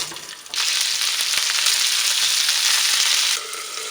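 Plums dropped into hot oil with cumin, fennel and nigella seeds set off a sudden loud, steady hiss of sizzling that holds for about three seconds before easing, close and with no talk.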